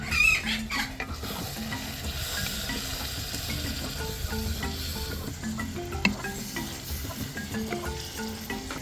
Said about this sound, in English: add the sliced tomatoes to the stew base, stir and cover to cook